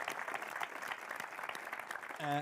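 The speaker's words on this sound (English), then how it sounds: "give a big round of applause to Gavin for all his hard work up on stage" Applause from an audience at a talk on the evolution of Final Fantasy, a moderate wash of clapping from a room of listeners that swells briefly near the end as a voice cuts in.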